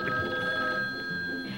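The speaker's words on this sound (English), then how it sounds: "a kitchen phone at hand when friends call up to chat a bit" A kitchen telephone in a film rings with a bright, sustained electronic bell tone, fairly close and clear, continuing steadily for the whole moment with no talk over it.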